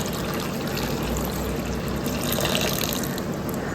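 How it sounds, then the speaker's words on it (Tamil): Water pours steadily into leftover cooked rice and moong dal in a pot for pongal, a close, continuous trickling splash lasting a few seconds, with no talking over it. "இவ்வளோதாங்க நம்ம தண்ணி ஊற்றணும்"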